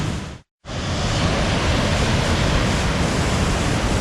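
Cascada La Paila waterfall and its creek cascades roar as a loud, constant broadband rush of falling water close by, cut by a brief silent gap near the start.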